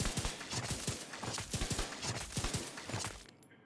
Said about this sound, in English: let me just show you the Urban MDR